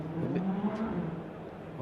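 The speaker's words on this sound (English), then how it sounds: "You can hear them, you can see them to the right there. The cars that are just going past the Trent Bridge" Cars driving past the Trent Bridge cricket ground, a steady low road rumble of passing traffic that swells slightly midway, with faint voices in the background.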